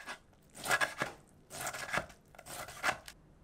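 Kimchi being finely sliced on a board, three bursts of quick crisp knife strokes with short pauses between, close and fairly quiet, no voices.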